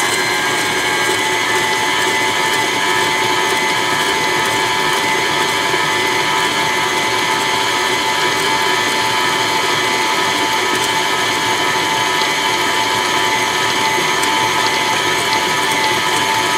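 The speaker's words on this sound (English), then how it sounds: "And then we mix that pretty fast until it's completely mixed." An electric mixer beats softened butter and sugar for reduced-sugar cookie dough, a loud, steady mechanical whir with gear-like rattling that runs unbroken throughout, with no voices.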